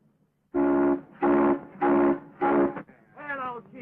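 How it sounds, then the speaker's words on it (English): A steam locomotive whistle in a 1929 Western film sounds four loud, evenly spaced blasts, each about half a second, followed by a softer wavering tone. "You blow that whistle again, and I'll blow you right out of that cab."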